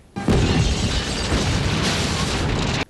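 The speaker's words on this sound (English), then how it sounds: "the streets are exploding because it's Detroit" A street explodes in a Hellraiser III movie scene set in Detroit: a sudden, loud, sustained roaring blast that holds for nearly three seconds, then cuts off abruptly.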